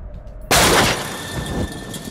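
A single loud gunshot from a gun in the video game Until Dawn bursts out sharply, then trails off into a ringing, noisy decay lasting about a second, with no talking over it.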